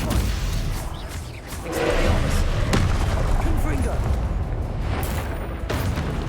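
Confringo spell blasts in Hogwarts Legacy during a duel with other spells cast, loud thumping bursts over dense combat noise and music, with a voice speaking over it.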